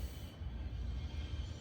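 A long UP/BNSF freight train passes with a steady, broad rumble and wheel roar that holds evenly throughout, heavy in the low end, with no horn or voices.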